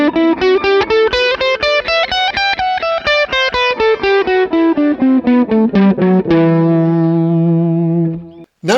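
Electric guitar with distortion and echo runs up and back down the E Aeolian mode in steady single notes, finishing on a held, ringing note.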